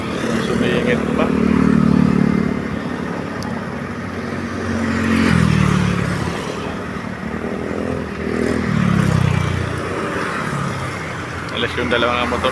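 Two motorcycles squeezing through traffic, their engines rising and falling in three passing swells, close and fairly loud, with a person talking over the road noise.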